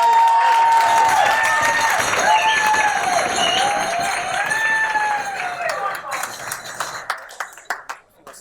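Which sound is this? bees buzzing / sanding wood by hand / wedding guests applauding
wedding guests applauding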